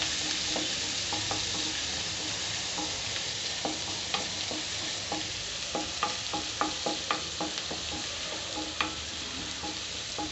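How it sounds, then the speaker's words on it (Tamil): Chopped onions stirred and sautéing in a pan for Chettinad crab gravy: a steady, even sizzle of frying runs throughout, broken by frequent small clicks and scrapes of a spoon stirring against the pan. "இப்போ இதை வதக்கி விட்டுக்கோங்க."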